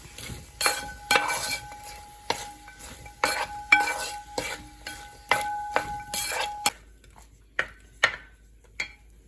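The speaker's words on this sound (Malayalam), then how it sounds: "ഇത് നല്ലോണം ഒന്ന് വഴറ്റിയെടുക്കാം." Onions and spices are sautéed in ghee in a pan for Kerala tomato rice, a ladle clinking and scraping against the metal in a steady rhythm of sharp taps over a light sizzle, close up.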